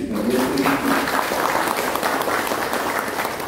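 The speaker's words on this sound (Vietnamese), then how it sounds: "Xin đại hội cho một lần đại vỗ tay để cảm ơn các anh chị." Delegates at the sixth congress of the Hanoi Martial Arts Association give a round of applause, thick, steady clapping from a large hall audience. A voice is heard faintly at the very start.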